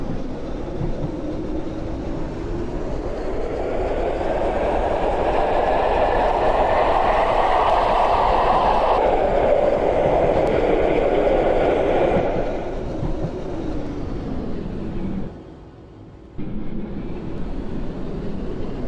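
A Roblox tram rumbles along its rails, a broad rolling roar that swells and fades, with a brief quieter gap near the end; no talking.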